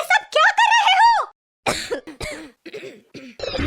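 A cartoon character coughs in several harsh, throaty bursts, loud and close, separated by short pauses. Voiced, pitched sounds come first and the coughing follows.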